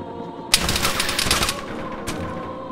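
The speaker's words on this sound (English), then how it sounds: "Shots outside." Bursts of automatic gunfire crackle outside in Arma 3 on Chernarus, a loud rapid volley of shots followed by a second short burst, somewhat distant and echoing.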